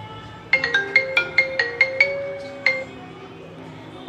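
A bright marimba ringtone melody plays a quick run of plucked notes, then pauses before a final note, clear and close.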